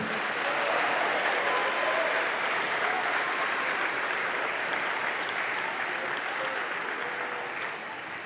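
Church congregation applauding in praise to God, a broad, even roar of clapping that stays loud and constant before easing slightly at the close.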